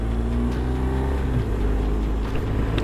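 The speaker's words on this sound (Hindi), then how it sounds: "अंकारा की ट्रैफिक मुझे मिलना शुरू हो गई है वंस अगेन।" Steady engine drone and road rumble in Ankara city traffic, heard from a moving motorcycle, with passing vehicles blending into a continuous loud hum.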